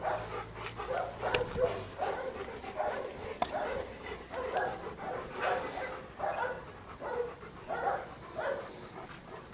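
Several dogs bark and whimper during a desensitization training exercise, a steady run of overlapping yelps and whines at moderate distance over a noisy background.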